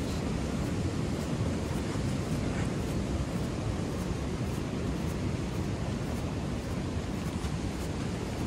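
Powerful water rushing through a gorge in Scotland, a loud, unbroken, close roar of churning flow with heavy low rumble and no pauses.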